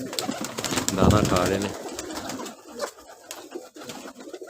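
Teddy pigeons of the Misriyan type, kept for sale in Kasur, Pakistan, coo in a soft, low, throaty burst near the middle while someone talks over them.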